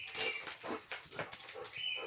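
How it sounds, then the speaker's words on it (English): A dog scratches itself indoors, its collar tags jingling in quick, bright, close bursts of rapid metallic rattle over about two seconds, with no talk. "you're jingling your collar right now"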